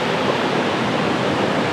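Floodwater roars down a river in Castleton after Storm Babet, churning over a torn-up, muddy riverbed; a loud, steady, unbroken rush with no voices.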